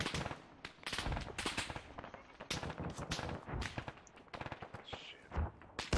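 Gunfire in an Arma 3 battle, dense bursts of sharp cracks and booms including rapid machine gun fire, loud and irregular with some more distant shots.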